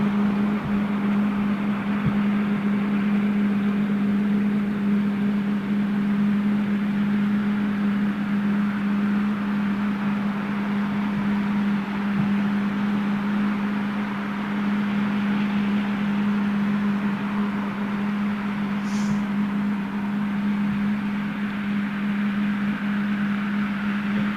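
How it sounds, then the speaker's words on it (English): GE90 jet engines idling at Heathrow Airport, a steady, droning hum with a strong low tone and broad hiss, constant and unchanging throughout, with no voices. "I love that sound of her just sitting there idling, man. Those big GE90s."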